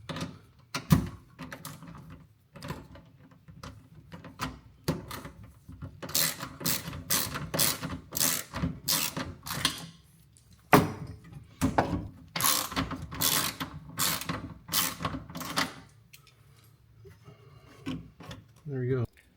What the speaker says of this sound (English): Sorry for that noise in the jack.